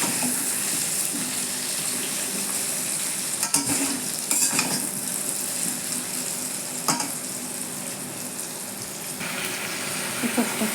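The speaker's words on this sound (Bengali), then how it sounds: "আলুটাকে আগে ভেজে নিলাম, লাল লাল করে একটু ভেজে নেবো।" Potatoes fry in a little oil with a steady hiss. A few sharp scrapes and knocks of stirring break in along the way, and faint talk can be heard at times.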